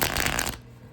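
A tarot card deck being shuffled up close, a dense papery riffle of cards for about half a second before it stops abruptly into quiet.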